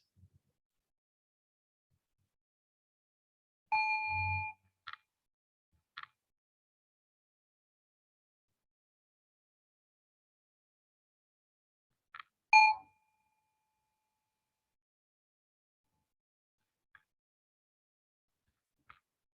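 A bell is struck twice, well apart, each ringing out briefly with bright overtones, with a few faint clicks in an otherwise quiet room.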